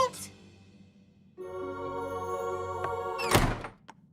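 A door in an animated pony cartoon thuds shut with one hard, heavy knock, following a steady tonal hum.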